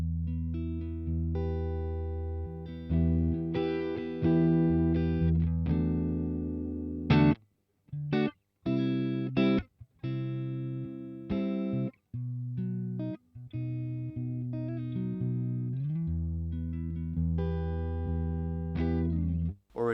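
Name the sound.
electric guitar through Boss Katana Mk II amp, basic clean tone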